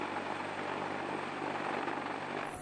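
A CH-53K King Stallion heavy-lift helicopter gives a steady, dense rotor and turbine roar, loud and unbroken, with no talk over it.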